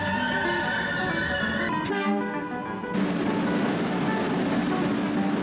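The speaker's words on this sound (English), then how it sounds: "train to Government Center is now arriving." A Boston Green Line light rail train pulls in, a steady rumbling roar with a brief tonal, horn-like sound near the middle before the broadband noise swells again and stays loud to the end.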